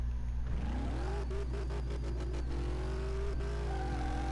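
A Mazda RX7 engine in Car Mechanic Simulator 2018 idles steadily, then is blipped through a quick series of short revs before settling into a longer, rising rev. It is close and loud, with no talking.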